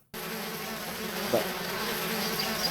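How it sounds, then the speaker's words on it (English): A swarm of bees buzzing in the 1997 Activision adventure game Zork: Grand Inquisitor, a steady close droning hum that starts abruptly and holds evenly, with a brief spoken word over it. "Let's mellow these bees out."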